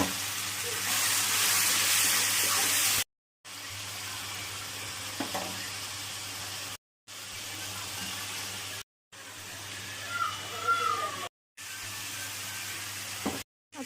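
Green masala paste sizzling in hot oil with fried onions, a steady hiss of frying broken by short silences, loudest at the start and quieter later, with faint stirring and scraping now and then.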